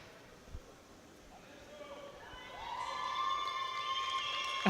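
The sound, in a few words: home crowd cheering at bench press championship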